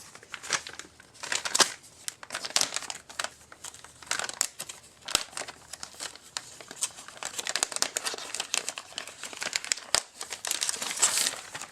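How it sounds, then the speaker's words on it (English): A plastic package holding RPM rock sliders for an SCX10 RC crawler is torn open and handled, giving a long stretch of close, continuous crinkling and crackling with sharper rips scattered through it and no talk. "let's tear open the package and see what's inside"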